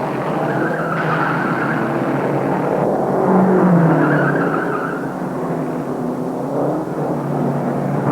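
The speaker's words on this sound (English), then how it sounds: "Vukovic about to overtake McGrath, and he takes the lead on the 7th lap." Race cars lapping the Indianapolis track at the 1952 Indianapolis 500. A steady engine roar swells and fades as cars pass, with a high whine over it, all with the muffled tone of an old recording.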